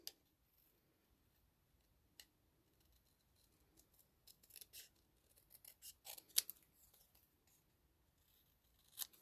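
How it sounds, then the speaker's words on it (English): Scissors cutting paper for a stamping craft, making quiet, sparse snips and crisp cuts that cluster in the middle and end, close and faint, with no talking. "It's easier to get your scissors where you want them to go"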